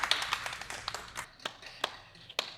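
Audience clapping at a balloon pop dating show, sparse scattered claps and taps that quickly thin out into a few isolated hand claps.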